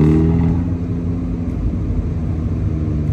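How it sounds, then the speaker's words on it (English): An Abarth 124 Spider sports car's engine revs loudly, recorded from inside the cabin, with a steady, heavy rumble that holds for about three seconds. "Is this the world's loudest Abarth 124 spider?"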